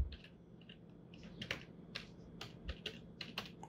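Keys on a computer keyboard click in a short burst of quiet, separate keystrokes while a name is typed into Windows settings, faint and close with no voice.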